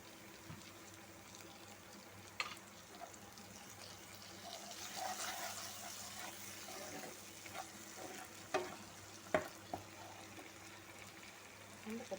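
Curry leaves and fresh ginger-garlic paste frying in hot oil for a boondi curry, a soft steady sizzle with a few sharper crackles and pops, close up, with no talking.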